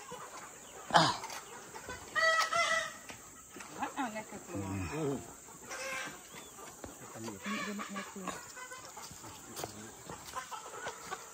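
Chickens cluck and crow faintly in a rural longhouse setting near Sungai Lelabi, with scattered calls and crickets under people talking throughout.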